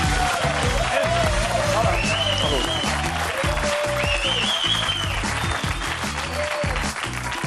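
An audience applauds loudly and steadily in a television studio, with dense clapping that holds for several seconds while a voice talks over it.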